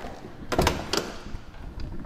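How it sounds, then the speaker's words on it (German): The door of a 1997 Porsche 993 4S swings shut with a short, solid thunk, followed by a second lighter latch click, heard close up in a quiet setting. "wenn du hier die Tür zumachst, guck mal, so muss es klingen"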